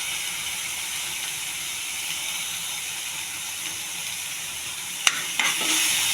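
Onion, curry leaves and ginger-garlic paste sizzle steadily in a pan, a continuous hiss ending with a few sharp scrapes of stirring.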